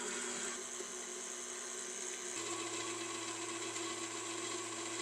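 Electric hand mixer whirring steadily as it beats small-batch crusting buttercream icing ingredients with white food coloring in a bowl, a constant near motor drone that shifts to a lower, steadier pitch partway through.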